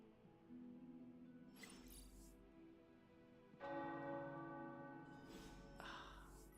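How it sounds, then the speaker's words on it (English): Tower bells ring in a video game (Marvel's Midnight), two rounds of resonant strikes whose humming tones linger and overlap, faint and distant. "The tower bells are ringing."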